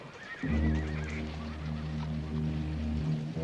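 A black gelding, a Ponderosa-bred saddle horse, lets out a loud, close neigh that starts abruptly and holds steadily for nearly three seconds before fading, alone with no talk.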